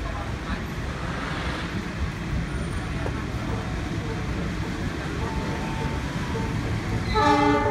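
A passenger train, the Kertajaya, runs through Jatinegara station in Indonesia, its steady rumble and rail noise filling the scene throughout, with a horn-like tone near the end.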